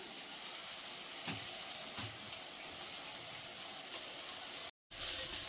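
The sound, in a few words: chili powder frying in pan, sizzling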